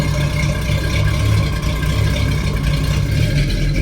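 A restored 1966 Chevy II Nova SS with a 327 V8 and automatic transmission idles steadily close by, a continuous low rumble with no talking.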